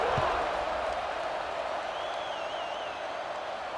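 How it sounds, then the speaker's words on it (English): A packed LSU football stadium crowd roars as the defense takes the field, a loud, sustained wash of cheering and noise from a distance with scattered whistles. "This place is roaring"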